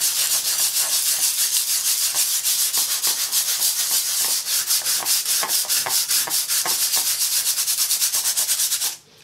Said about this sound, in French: Pour finir de le faire apparaître, je vais me saisir d'un petit bout de papier de verre